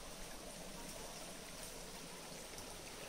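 A forest stream flowing near the Chute-à-Bull waterfall in Val St-Côme, Québec, gives off a steady, even rush of running water that stays level throughout, with no voices.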